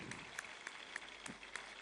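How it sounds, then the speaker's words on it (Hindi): Applause from participants at a yoga camp session, soft and somewhat distant, with a few sharper individual claps standing out over a thin, steady patter. "so again a huge round of applause"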